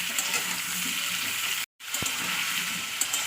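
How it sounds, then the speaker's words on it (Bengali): Potatoes and radish sizzle in hot oil, a steady, soft frying hiss with a brief drop-out and a small clink partway through. "ভালো করে আমি তেলে ভেজে নেবো তো নয় দু তিন মিনিট জন্য একটু ভেজে নেবো"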